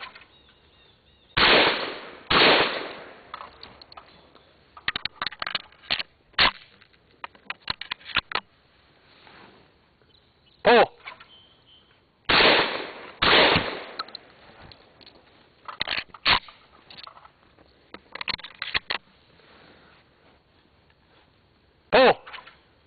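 Shotgun blasts at a sporting clays range, loud and close, in spaced pairs and singles with sharp reports and short decays, amid quiet outdoor background.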